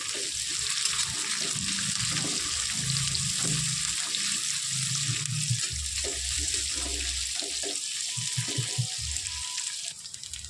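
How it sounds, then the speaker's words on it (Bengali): Onions with cashew nuts and two green chillies frying in a pan for Kolkata-style beef curry, a steady loud sizzle running throughout with occasional stirring scrapes and low clatter. "আর কাজু বাদাম দিয়ে আরও ভালোভাবে ভেজে নেব"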